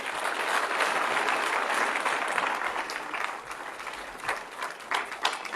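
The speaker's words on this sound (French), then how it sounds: "d'ovationner nos différents dirigeants." Sustained applause from a large conference audience in Ouagadougou honoring the leaders of the Alliance of Sahel States, dense and even at first, then thinning into scattered louder claps toward the end.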